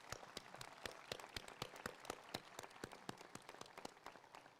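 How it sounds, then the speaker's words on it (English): Guests at a 2023 Middlesex Community College commencement ceremony applaud, heard as faint, distant clapping with distinct individual claps standing out at an uneven rhythm. "I believe this historic class and all of their supporters deserve a round of"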